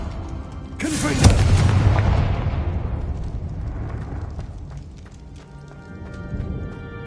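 The Confringo fire spell in the Hogwarts Legacy video game goes off as a sharp blast that swells into a loud rumbling boom, then fades into a long decaying roar with a smaller burst near the end.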